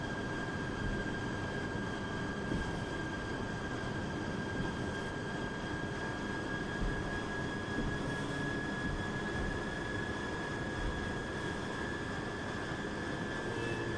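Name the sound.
airplane engine during takeoff in a flight simulator game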